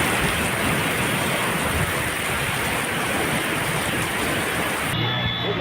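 Torrential rain pours down in a dense, loud, unbroken roar across Rohtak, steady throughout and cutting off abruptly near the end.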